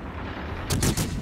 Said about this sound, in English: we lay some HE fire into that Yamato